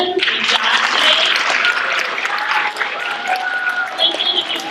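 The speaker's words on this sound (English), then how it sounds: "At this time, let's give a big round of applause to Lincoln." Sustained applause and clapping from a school audience at a middle school spelling bee, dense and steady throughout, congratulating a contestant after a correctly spelled word.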